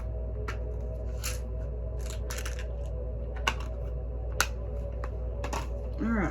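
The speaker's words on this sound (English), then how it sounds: "the dice are going to be loud, guys, okay?" Dice rattle and clatter close by in a few quick bursts with sharp clicks between, with a faint voice briefly heard near the end.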